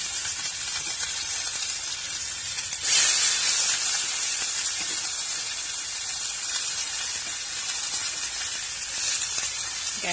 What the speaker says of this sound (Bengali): এখানে তেল দিয়েছি আর ওর মধ্যে দিলাম সামান্য পরিমাণ জিরে